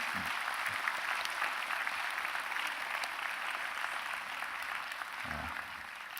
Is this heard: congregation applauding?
yes